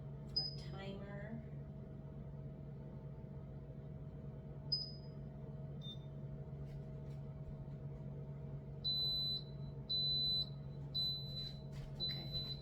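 A small travel-size oven has its timer set, with a steady appliance hum throughout, an early chirp, and then a run of short, high, evenly spaced beeps near the end.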